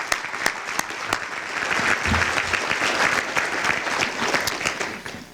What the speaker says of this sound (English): a round of applause for our collective tech-savvy businesses